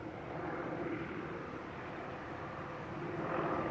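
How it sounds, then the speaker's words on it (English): A police helicopter circles somewhere overhead, a faint, steady distant rotor and engine drone that swells slightly toward the end, with no voices. "The police helicopter has circled by twice now."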